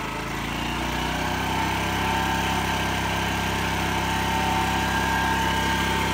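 A conventional portable generator engine runs at steady speed, a loud continuous close drone with a constant hum and vibration throughout and no voices.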